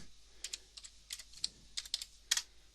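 Keys on a computer keyboard tapped to enter an admin login and password, quick clusters of close, crisp clicks with short pauses between bursts in a quiet room.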